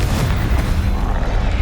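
A loud, close blast from the Confringo blasting spell in Hogwarts Legacy, a heavy booming explosion with a rumbling low-end tail that fills the whole short moment.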